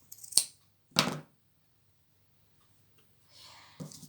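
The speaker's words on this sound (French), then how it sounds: "Avec ma paire de ciseaux, je vais couper à l'intérieur des boucles." Scissors snip twice inside yarn loops while a tassel pompom is being made, two sharp close cuts with a later softer rustle and a final snip, and no talking.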